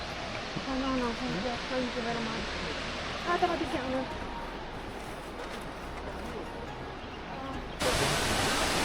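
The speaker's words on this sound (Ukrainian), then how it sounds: "Вон водоспадик." Ouzoud waterfall in Morocco gives a steady broadband rush of falling water that runs throughout the clip, with faint voices of a crowd beneath it and a louder surge near the end.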